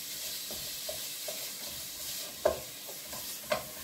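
Steady sizzling of meat frying in a pan for a ragù sauce, with occasional scraping clicks as it is stirred up close.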